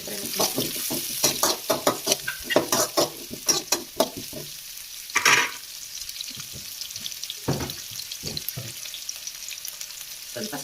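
Onion, curry leaves and garlic frying in a home kitchen, bursts of sizzling and clattering stirring in the first half, then fading to quieter scattered scrapes, fairly close with no clear speech.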